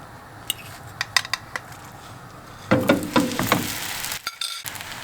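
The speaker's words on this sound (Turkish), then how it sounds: "Tekrardan kapağını kapatıyorum." A lid set down on a frying pan while a breakfast börek cooks in oil: a few light metallic clinks, then a louder clattering knock and rattle of the lid settling, close by with no talk.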